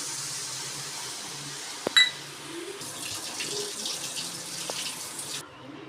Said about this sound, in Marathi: आता आपण त्यामध्ये शिजेल एवढे पाणी टाकून घेऊया